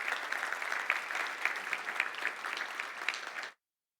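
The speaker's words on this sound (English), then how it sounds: "may we give Dr. Martin a round of applause" A conference audience at a field epidemiology keynote breaks into steady, dense applause of many hands clapping together, holding an even level for about three and a half seconds before stopping abruptly.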